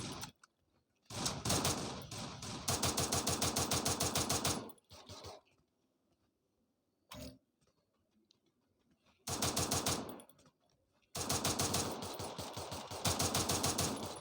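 Rapid automatic gunfire from a mobile shooter video game comes in loud, dense bursts, with a long volley, brief single shots, then two more sustained rattling volleys separated by near silence.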